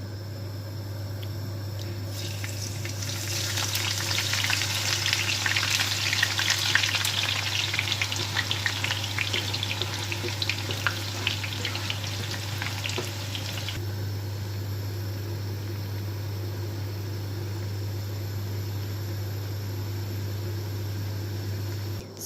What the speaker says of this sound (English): Now we're frying the potatoes